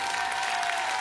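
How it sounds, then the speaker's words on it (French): Television studio audience applauding a young singer on a children's talent show, a steady wash of clapping filling the brief moment. "Applaudissements pour Romane."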